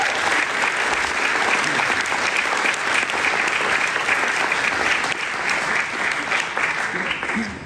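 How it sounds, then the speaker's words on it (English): Guests at a children's cancer centre's 60-year celebration dinner in Sydney give a long round of applause, thick steady clapping filling the room at full volume throughout. "Give yourself another round of applause for that"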